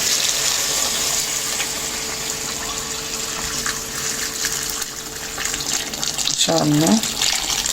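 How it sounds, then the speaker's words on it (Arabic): Boiling water is poured into a cooking pot, giving a steady close gush and splash. Near the end the stream turns to gurgling, and someone speaks briefly over the pour. "هنحط بس الميه المغليه بتاعتنا"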